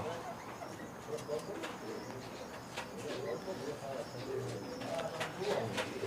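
Pigeons coo in soft, low repeated calls against steady background noise, with a few sharp chirps and clicks; someone talks at times over the birds.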